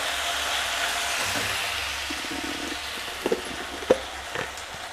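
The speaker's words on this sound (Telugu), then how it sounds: "ఇది కొంచెం సేపు బాగా ఫ్రై చేసుకోవాలండి" Ingredients for mango rice powder fry in a pan with a soft, steady sizzle and a few faint clicks and taps against the cookware.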